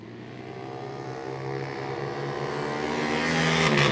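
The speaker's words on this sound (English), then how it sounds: "Turcello on the Yamaha XT." Vintage racing motorcycles, a Yamaha XT among them, roar on a race track, a loud sustained engine drone climbing steadily in pitch and volume as the machines accelerate close by.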